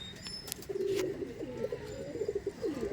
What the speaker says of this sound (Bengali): এই দেখুন পায়রা দেখুন মানে মাথা খারাপ পায়রা এই দেখুন